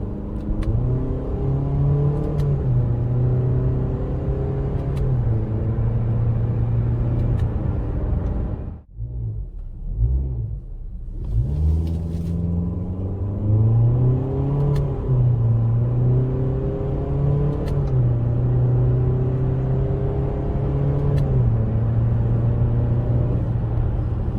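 Engine of a 2021 Honda HR-V EX-L revving hard under acceleration with paddle shifting, loud and steady, with rising and falling tones at each gear change and a brief drop in sound midway.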